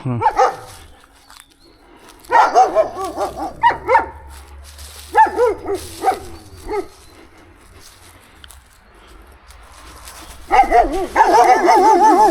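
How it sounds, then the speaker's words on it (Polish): Dogs barking outdoors near a medieval hillfort site in Boczów, several bouts of barking and yelping at moderate distance separated by quieter gaps, with a longer run of barks at the end. "Pieski szczekają."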